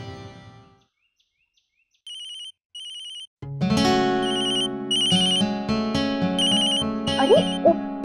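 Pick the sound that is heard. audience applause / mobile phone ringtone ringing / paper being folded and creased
mobile phone ringtone ringing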